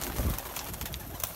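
Pigeons kept by a fancier on a rooftop in Jammu coo in low, soft bursts, one fuller coo early on, amid a busy, noisy background.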